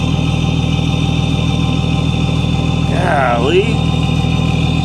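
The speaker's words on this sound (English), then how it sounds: "Hear that turbo?" Freightliner truck engine idling with a turbo: a steady, loud low rumble with a constant high turbo whine running over it, while someone speaks briefly partway through.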